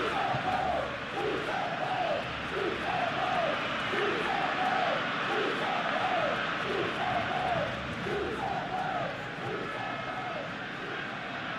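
Stadium crowd in the football game PES 2021 at a Barcelona vs Rayo Vallecano match: a loud, continuous roar with rhythmic rising chants repeating every second or so, swelling evenly throughout the stretch.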